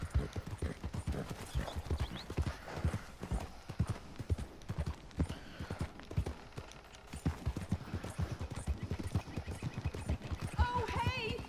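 Horse hooves clip-clopping in the Red Dead Redemption 2 video game, a steady rhythmic trot of loud, close hoofbeats running throughout, with a brief whinny-like tone near the end.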